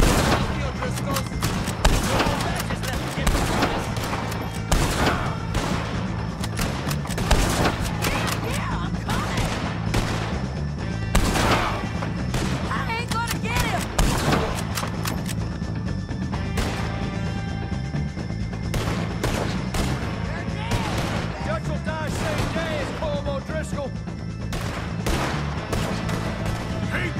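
Dense, continuous gunfire crackles through a Red Dead Redemption 2 shootout against O'Driscolls, with overlapping shots, booms and crashes over a steady loud game soundtrack and shouted voices.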